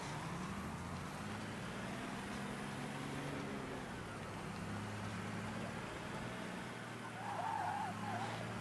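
A car drives in the video game Mafia III, its engine droning steadily and closely throughout with road rumble and a brief tire squeal near the end.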